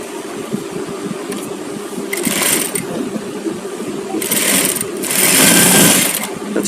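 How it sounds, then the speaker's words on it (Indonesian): Sewing machine stitching fabric during a sewing tutorial, loud close mechanical whirring in several bursts that swell and fade, the last and longest near the end. "ini ploynya sudah pas, jadi ini kita jahit saja"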